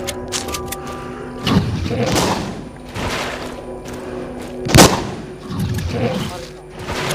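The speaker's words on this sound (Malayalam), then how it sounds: "ഇവിടെ ഒരു വെടിയും കൂടി മതി" Gunfire in the zombie shooter game Walking Zombie, a few sharp shots and thuds spaced across the moment, one especially loud crack near the end, over a low game soundtrack.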